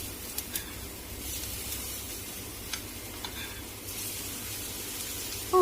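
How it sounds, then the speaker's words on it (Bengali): Thin gram flour batter fries in hot white oil with a soft, steady hiss and occasional faint pops and clicks, fairly quiet and close. "তেলের মধ্যে আমি এবার যেরকম খুশি শেপ দিয়ে বসিয়ে দিন। এরকম করে ভেজে ভেজে নিতে হবে।"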